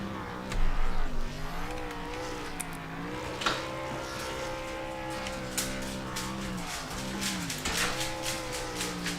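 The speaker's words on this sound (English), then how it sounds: "There's that burnout for him." A race car in a virtual race at Richmond roars through a burnout, engine note rising and falling in long wavering revs at steady moderate loudness, with faint crackles over the top.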